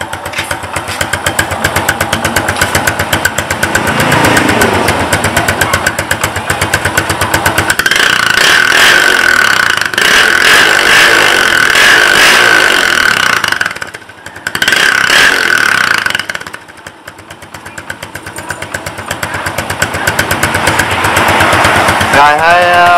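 Motorcycle fitted with an XM exhaust, running loud and close with rapid crackling and popping bursts over a steady engine note, briefly dropping off before picking up again.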